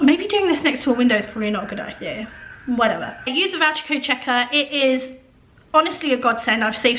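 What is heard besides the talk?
No distinct noise like a dog, phone or traffic.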